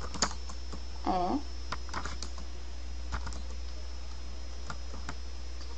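Keys tapped on a computer keyboard during a programming lesson, a sparse run of light clicks close by, with a brief hesitant voice near the start.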